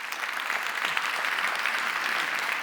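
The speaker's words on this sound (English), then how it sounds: "So a big round of applause for all of that." Audience applause at a live Free Press debate on whether the U.S. should shut its borders, a dense, even wash of clapping sustained at moderate volume throughout, with no voices over it.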